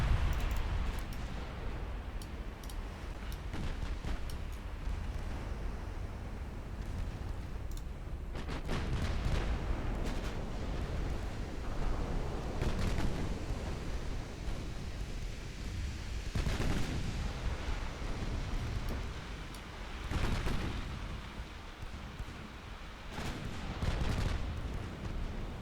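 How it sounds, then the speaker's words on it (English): Heavy 12-inch naval guns boom in a warship battle game, a steady rumbling din broken by several loud, sharp broadband blasts in irregular succession. "12-inch guns finishing it off."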